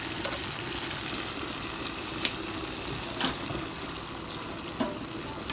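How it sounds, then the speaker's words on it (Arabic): Rice frying in fat in a pot, with a steady, loud sizzle throughout and a few faint clinks and scrapes of stirring on top. "انا حطيت هنا شويه ماده دهنيه وهحط عليها الرز"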